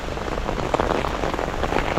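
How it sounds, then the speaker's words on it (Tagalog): Heavy rain pours steadily near a wide river, a dense, loud and even hiss of drops hitting surfaces with no voices. "Ayan o. Isang ulan!"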